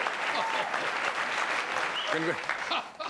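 A studio audience at The Tonight Show with Johnny Carson claps steadily and fairly loudly throughout, a dense wash of applause with a brief voice cutting through near the end.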